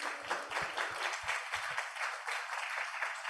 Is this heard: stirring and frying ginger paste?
no